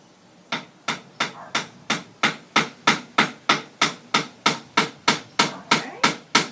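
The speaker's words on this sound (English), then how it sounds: "I'm going to hammer it into place" A steady run of about seventeen sharp hammer blows driving a nail into wood, evenly spaced, close and loud, with no talking.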